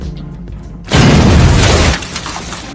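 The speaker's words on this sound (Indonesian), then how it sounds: "tindakan kedua adalah meledakkan toilet yang sudah berserakan tai di mana-mana" A toilet blows up as a film sound effect. A loud, sudden, broadband boom and shattering burst lasts about a second, then fades into a quieter rumbling tail of debris.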